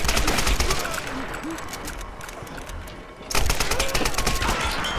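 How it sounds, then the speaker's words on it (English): Rapid gunfire bursts in the video game Tomb Raider (2013), dense crackling volleys that briefly drop off and resume, loud and continuous. "where am I getting shot from?"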